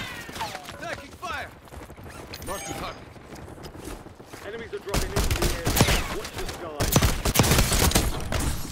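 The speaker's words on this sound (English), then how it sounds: "Bro, I'm getting sniped in the back." Video game gunfire from a Call of Duty match on Rebirth Island, a sniper shot among bursts of rapid automatic fire and clatter, dense and loud throughout with a heavier barrage in the second half, while a player talks excitedly over it.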